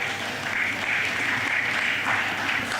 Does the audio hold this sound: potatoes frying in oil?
no